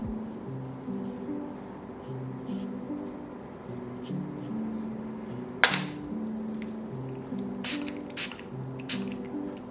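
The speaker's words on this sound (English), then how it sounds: "you can use a spray to wet the paper again" A spray bottle misting watercolor paper: one sharp, close spritz, then several quicker hissing sprays in a row, over faint background music and no talking.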